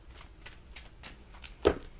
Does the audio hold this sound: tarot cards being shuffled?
yes